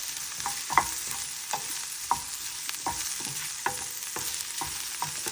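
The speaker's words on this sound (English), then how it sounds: "To roast the sliced coconut, I added some coconut oil, sprinkled some salt, and also sprinkled some turmeric powder." Sliced coconut roasts in hot coconut oil with salt and turmeric powder, giving a constant sizzle broken by regular scraping stirs of the pan while cooking beef curry.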